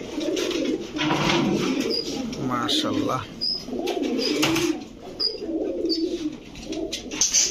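Domestic pigeons, egg-laying breeding birds offered for sale, coo in soft repeated calls with faint chirps around them, while someone talks over the birds throughout.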